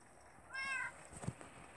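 A cat meows in the Minecraft video game, a short rising-and-falling tonal cry heard once, followed by faint clicking game sounds at low level with a voice murmuring softly underneath.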